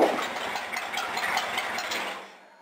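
A ratchet tightening the headlight mounts on an old school rat rod roadster, a rapid run of close, quiet clicks that fades out at the end.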